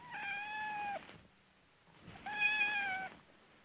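A cat meows twice indoors, each call a drawn-out, clear mewl lasting under a second, separated by a brief quiet gap with faint room noise.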